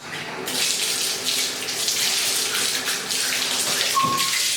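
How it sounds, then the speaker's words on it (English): Tap water pours steadily into a bathtub during cleaning, a bright continuous splashing hiss heard up close for several seconds, ending with a short squeak. "I'm going to clean the bathtub."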